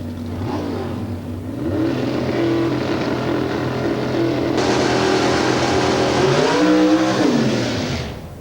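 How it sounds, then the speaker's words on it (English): A drag racing car doing a burnout at Santa Pod in 1991, a loud sustained engine roar that holds high and rises in pitch midway, then dips and swells again before easing off at the end. "Tim Cook completes his burnout"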